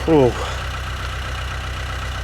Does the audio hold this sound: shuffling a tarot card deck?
no